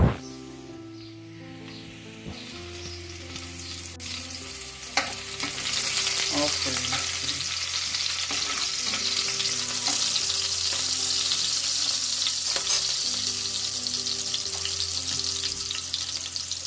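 Garlic frying in oil in a pan sends up a dense, continuous sizzle that swells after the first few seconds and stays loud and close, with a steady hiss and light crackle throughout and no voices.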